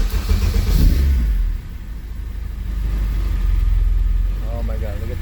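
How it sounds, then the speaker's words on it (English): A Honda K24 engine swapped into a CRX cranks and catches, then settles into a low, steady idle with a deep rumble close by; a brief louder burst at the start gives way to the even drone. "So let's try the starter."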